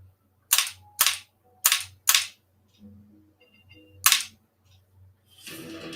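Sharp single gunshots from a lightgun shooter video game, five loud evenly spaced cracks with short gaps, faint game tones between and a rising noisy burst at the end.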